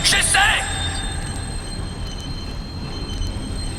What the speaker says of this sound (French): Arrêtez le wagon!